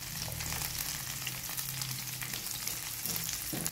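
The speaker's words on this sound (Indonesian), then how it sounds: "Tumis bawang merah dan bawang putih hingga harum" Shallots, garlic and green chili sauté in a hot pan, giving a continuous crackling sizzle that stays close and fairly loud the whole time, with no talking.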